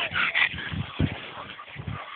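A French bulldog makes close, short snuffling whimpers and grunts in several bursts, among a pack of dogs indoors.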